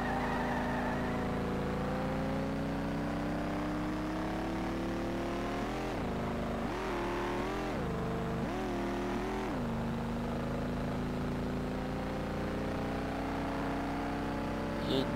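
A race car engine in the Street Legal Racing video game revs hard and strains near the limit, holding a loud sustained drone with a few dips and surges in pitch partway through, no speech over it.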